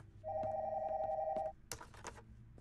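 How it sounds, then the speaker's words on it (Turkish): A telephone rings once in a quick electronic trill, fairly faint, followed by a short clatter of handling noise. "Telefona bakmalıyım."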